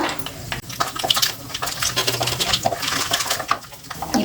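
Mustard seeds spluttering in hot oil in a pan while a medicinal kuzhambu is cooked: a dense, irregular crackle of sharp pops and sizzles, close and lively, with no talking.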